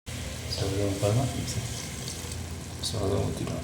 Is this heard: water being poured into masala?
yes